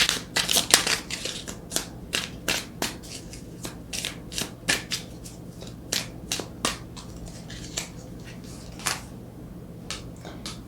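Rapid bursts of crisp tarot card riffling and snapping, repeated in quick clusters with short pauses, close and fairly quiet, no voices.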